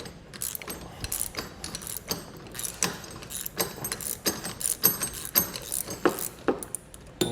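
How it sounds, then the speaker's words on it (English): A bolt is loosened with a 3/4 inch socket and wrench on a motorhome off-road bumper adapter bracket, giving a rapid, uneven series of close metallic ratcheting clicks, with no talking. "we're going to take our 3/4 inch socket and 3/4 inch wrench"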